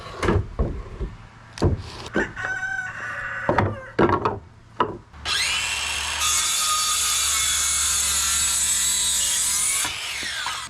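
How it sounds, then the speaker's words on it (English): A hand saw guided by a speed square cuts treated lumber with several short rasping strokes and knocks, then a long steady run of sawing that goes on for about five seconds before stopping, close and loud, with no speech. "You may notice I'm using my speed square to guide my saw instead of just drawing a line and trusting that line."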